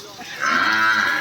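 A cow or buffalo gives a single rising moo close by, which swells loudly halfway through and holds steady.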